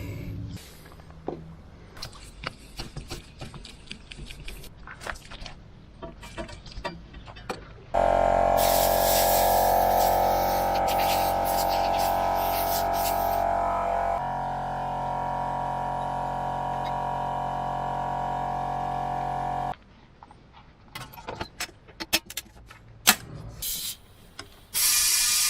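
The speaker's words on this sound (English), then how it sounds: "Pump all those tyres up." A pump inflates the tyres of an old ride-on mower that sat broken outside for years, a loud steady hiss running for several seconds between sparse clicks and handling knocks.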